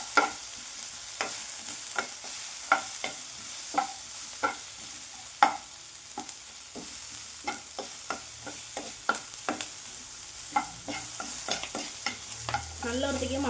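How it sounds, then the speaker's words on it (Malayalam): A spoon scrapes and knocks repeatedly through potato masala frying in a pan, sharp close taps over a soft continuous sizzle. "അതുവരെ നമുക്ക് ഇങ്ങനെ ഇളക്കി കൊടുത്തോണ്ടിരിക്കാം കേട്ടോ."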